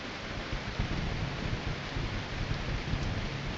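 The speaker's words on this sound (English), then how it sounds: "Why is the rain so loud?" Heavy rain pours down in a farming survival video game, filling rain barrels, a loud, dense, continuous hiss of drops drumming on surfaces, steady throughout with no pauses or voices.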